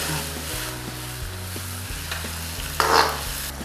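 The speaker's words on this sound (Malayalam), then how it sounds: "നമുക്ക് നന്നായിട്ടൊന്ന് മിക്സ് ചെയ്യാം" A spoon stirs chilli sauce, ketchup and salt in a pan for soya manchurian, with a soft sizzle under repeated, evenly spaced scrapes and a louder scrape near the end.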